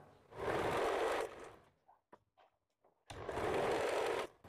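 A sewing machine stitches a blouse sleeve at the shoulder, running in two steady loud bursts separated by a quiet pause with light handling clicks.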